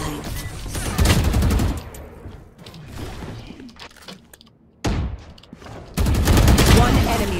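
Valorant gameplay gunfire comes in dense, loud bursts of rapid shots with mechanical clatter, broken by quieter gaps and followed by another heavy volley.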